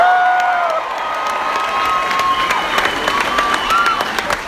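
A theatre audience at Jason Alexander's live comedy show in Melbourne bursts into loud, sustained applause mixed with cheers and whoops, steady throughout.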